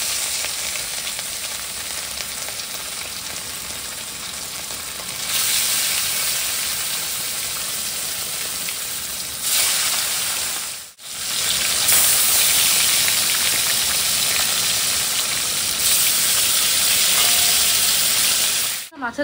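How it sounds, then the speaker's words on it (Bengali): Fish curry (macher jhol) boiling in a pan in a village home kitchen, giving a steady bubbling sizzle with a hissing wash that runs the whole time, loud and close, briefly cut once midway. "মাছের ঝোলটা এই যে ফুটছে এখানে"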